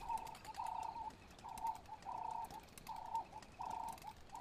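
A Cape Turtle Dove coos in a repeated rhythmic pattern of short, paired hooting notes, faint and steady against a quiet outdoor background.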